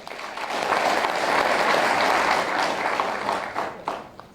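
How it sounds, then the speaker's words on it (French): An audience applauds two top-level athletes, a dense, sustained wash of clapping that swells steadily, holds for several seconds, then tapers off with a few scattered claps at the end. "je souhaite que nous puissions les acclamer"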